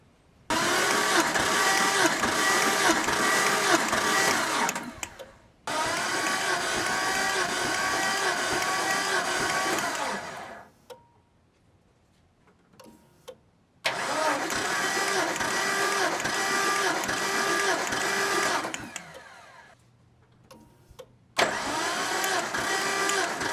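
A Jeep Cherokee engine with its spark plugs out cranks over on the starter during a compression test, in three long, steady whirring bursts separated by pauses, loud and close.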